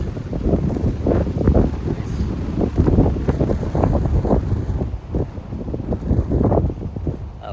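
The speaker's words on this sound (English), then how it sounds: "here comes another gust of wind" Strong wind gusts roar and buffet the microphone on a mountain trail along the Appalachian Trail on the way to Low Gap Shelter, with rumbling surges rising and falling throughout and no talking.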